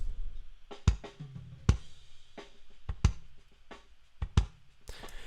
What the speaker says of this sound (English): Without the gate, the kick sounds like this.